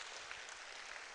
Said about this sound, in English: a round of applause for our professor again